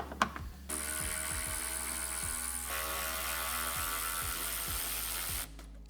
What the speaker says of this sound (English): we're going to go ahead and remove both of these 2 bolts that hold on the upper part of the headlight using a 10mm socket